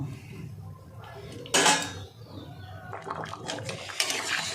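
A metal lid is set down on a cooking pot of simmering dal with tomato and vegetables. A sharp clatter rings out near the middle, and light dish and utensil clinks follow over a low kitchen background.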